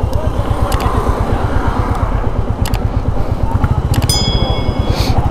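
A new Royal Enfield Classic 350 motorcycle idles close by with a steady, thumping single-cylinder beat that carries through the whole clip, with a few faint clicks and a short tone near the end.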